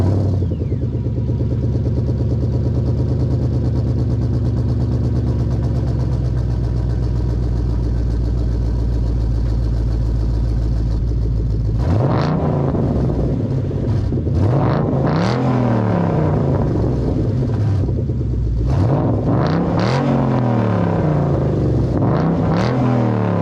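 A Ford Mustang GT 5.0 with an aftermarket axleback exhaust idles with a deep, even burble. About halfway through it breaks into several sharp revs that rise and fall, loud and close.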